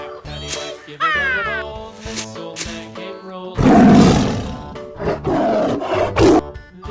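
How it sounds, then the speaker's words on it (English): A toy tiger's recorded roar, a loud broadband burst of a few seconds, comes amid a children's zoo-animal color-learning sequence with music and other animal calls around it. "Yellow tiger."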